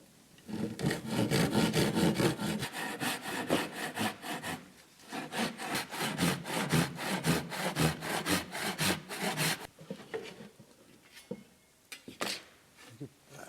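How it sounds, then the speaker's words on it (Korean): Rhythmic back-and-forth rasping of a hand saw cutting through a wooden chest to separate the lid, fast regular strokes that slow and stop near the end. "톱질을 하겠습니다."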